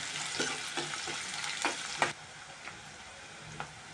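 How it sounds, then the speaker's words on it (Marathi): Steady oil sizzle of onion frying in tempering oil in a pan, with several sharp stirring scrapes and clicks scattered through, close and fairly loud. "आता कांदा टाकला फोडणीला कांदा टाकला"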